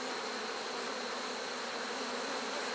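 Honeybees hum at an open beehive with a new queen laying, a dense, steady buzz of many insects close by and constant throughout, with no talking.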